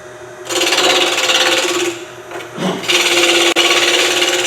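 Bowl gouge cutting a spinning wood blank on a lathe: a loud, steady scraping rasp in two long passes with a brief dip between them, close and alone with no talk.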